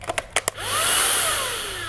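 A few short clicks, then the small motor of a Proscenic P11 cordless stick vacuum whirs up to a steady high-pitched whine that holds close and loud.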